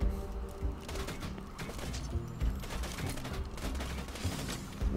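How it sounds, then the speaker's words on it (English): Rapid bursts of automatic gunfire in the video game Borderlands 2, with dense overlapping shots cracking in quick irregular volleys through the whole stretch, loud and close with occasional heavier thumps. "Where are you shooting me from?"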